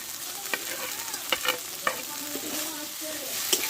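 A fried fish head is stirred into spiced, boiled taro stems in a hot pan, producing a gentle sizzle punctuated by several scraping stirs and light utensil clinks.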